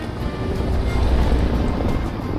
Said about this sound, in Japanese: 川を見ながら一休みできるスポット。